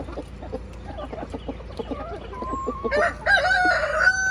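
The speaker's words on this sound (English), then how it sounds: "I got my rooster." A rooster crows loudly nearby, a drawn-out cock-a-doodle-doo rising over soft clucking and rustling of hens in a coop.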